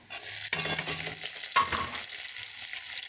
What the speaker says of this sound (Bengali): টমেটো, পেঁয়াজ আর আদা একটু ভালো করে ভেজে নিয়েছি